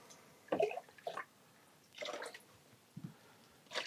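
Colour film wash water splashes from a developing tank into a waste bucket in short, quiet pours and dribbles, several separate bursts with pauses between them.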